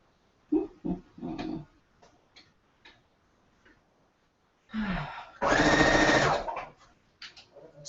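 A sewing machine stitching nine quilt pieces together by the webbing method, a short whirring run near the end after scattered clicks and handling noises, close by and without talk.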